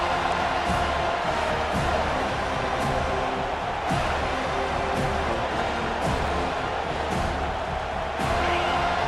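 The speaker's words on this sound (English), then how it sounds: "Decibels rising as the crowd gets behind this defense on 3rd down." A football stadium crowd at a Wake Forest at Florida State game roars steadily through a third-down defensive stand, a dense, sustained wall of cheering with a few sharper bursts rising out of it.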